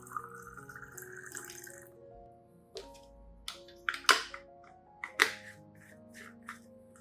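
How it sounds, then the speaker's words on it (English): Water poured from a container into a blender holding chopped banana peels, a faint trickle with splashy bursts and a few soft knocks against quiet tonal background music. "Next, add about 500 milliliters of clean water."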